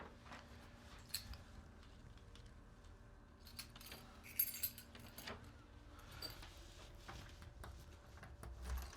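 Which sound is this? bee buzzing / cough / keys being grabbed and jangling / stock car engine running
keys being grabbed and jangling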